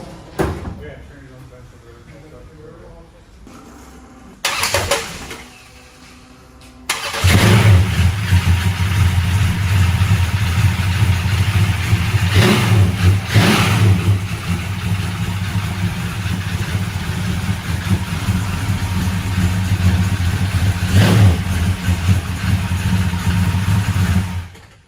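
A 1968 Dart GT no-prep drag car's engine rumbles steadily nearby after a couple of door thuds. People talk over the constant low drone.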